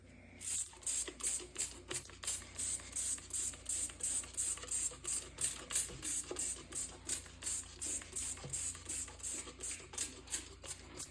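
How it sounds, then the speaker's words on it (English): Cleaner sprayed from a trigger bottle onto a gas stovetop, a long even run of rapid hissing squirts in steady rhythm, close and fairly quiet against a low room hum. "I'm gonna give a good spray of this"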